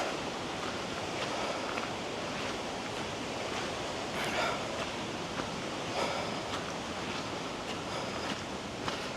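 Rushing water of Steall Waterfall in the Scottish Highlands, a steady broadband roar heard from nearby, constant and unbroken with wind buffeting the microphone.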